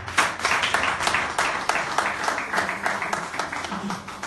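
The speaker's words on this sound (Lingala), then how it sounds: "On acclame très fort pour la gloire." Church congregation claps and cheers loudly together in praise, a dense burst of applause with rhythmic clapping running through the whole stretch.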